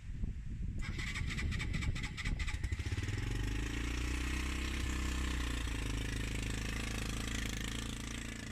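A Suzuki GN125 motorcycle engine cranks with rapid stuttering bursts, then catches and settles into a steady, loud, rough idle close by.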